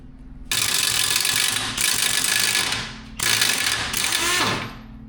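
A ratchet wrench works a rusty bolt loose on an electric Honda Crosskart go-kart, giving fast, dense clicking in a few long strokes with short breaks between them, close and loud.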